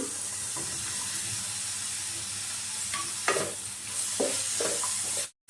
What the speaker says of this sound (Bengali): পেঁয়াজটাকে আমি একটুক্ষণ ভেজে নিয়েছি, পেঁয়াজটা একটু নরম হয়ে গেছে। এরপর আমি এর মধ্যে দিয়ে দিচ্ছি ক্যাপসিকাম